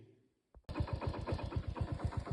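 Motorbike engine in a village starts after a brief crank, then settles into a steady, close, throbbing idle.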